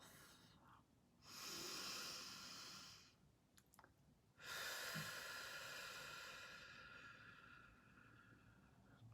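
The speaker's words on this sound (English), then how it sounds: "try just breathing in through the nose" Slow breathing in through the nose and out through the mouth during a guided breathing exercise, with two long, airy breaths rising and fading close to the mic, separated by a short quiet pause.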